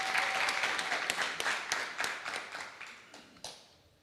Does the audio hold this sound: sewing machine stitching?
no